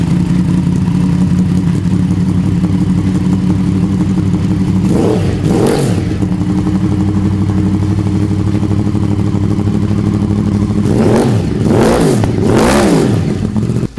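A motorcycle fitted with a Leo Vince SBK Factory Evo II full exhaust idles loudly and close, with two sharp pairs of throttle blips rising and falling against a steady rumbling idle.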